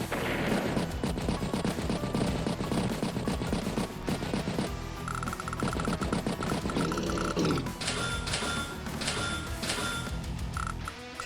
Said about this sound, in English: Does manage to machine gun down the anti-air.